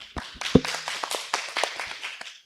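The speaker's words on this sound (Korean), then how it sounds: "마지막 지정 토론자 동의대 최정윤 교수님 큰 박수로 부탁드리겠습니다" Scattered clapping from a small audience at an academic conference session as the final discussant is introduced, a handful of sharp, separate claps of uneven loudness that taper off quickly.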